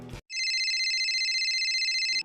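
A telephone ringing while a call is being placed, heard as a steady, repeating electronic ring tone that starts right after a brief burst of noise and continues for about two seconds.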